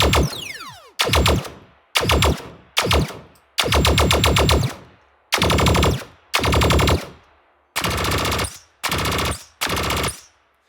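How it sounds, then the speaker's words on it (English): A synthesized sci-fi automatic weapon preset from the SFX Pro 9000, fired in about ten loud, separate bursts of rapid repeated shots, each with a sharp onset and a brief tail, and short silent gaps between them. "all-around sci-fi automatic weapon"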